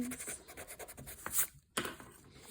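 A pencil eraser rubbing out lines on paper in short, quiet scratching strokes, with brief pauses between bursts, close and soft.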